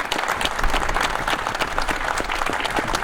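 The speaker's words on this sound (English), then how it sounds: "Let's give each and every one of these firemen and these public servants a round of applause that they deserve in this important day." Crowd at an outdoor rally for firemen and public servants in Elizabeth, New Jersey applauds steadily, a dense wash of clapping with faint cheers, holding level throughout.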